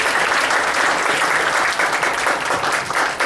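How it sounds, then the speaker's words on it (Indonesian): Steady, even audience applause filling the room, a continuous wash of many hands clapping without pause. "Boleh kita kasih tepuk tangan ya"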